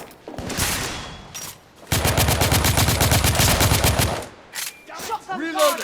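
Gunfire in the PS5 game The Order: 1886 as guards come down a ramp: a loud, sustained burst of rapid automatic shots lasting about two seconds, with shorter bursts and scattered shots around it and no talking.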